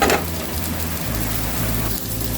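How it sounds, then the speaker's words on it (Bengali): Chopped vegetables fry with salt in a hot pan, browning for vegetable fried rice, producing a steady, close crackling sizzle that carries evenly throughout. "ব্রাউন হওয়া পর্যন্ত আমরা একটু ভেজে নিব।"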